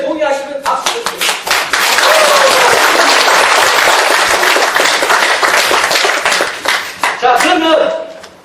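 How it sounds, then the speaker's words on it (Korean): Lecture audience at a Korean history society talk bursts into applause: scattered claps build quickly into a loud, dense round of clapping that holds steady, then thins into separate claps near the end. "여러분 제 의견에 동의하시면 박수 주세요"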